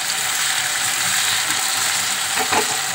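Potatoes sizzle steadily in hot oil in a pan for paneer dhokar dalna, a constant close hiss with faint stirring scrapes and no talk.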